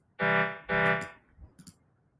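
Two steady, reedy synthesized woodwind notes held back to back, bright and buzzy, then a few soft clicks afterward.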